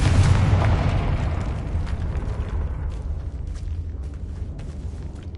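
A loud, deep boom from a Confringo blasting spell in Hogwarts Legacy hits at the start and rumbles away over several seconds, with no talk.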